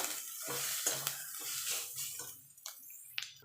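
Spices stirred into a pan for a Bengali cauliflower chop filling, with repeated scraping strokes of the spoon against the pan over a low sizzle, close and fairly quiet, and a couple of sharp clinks near the end.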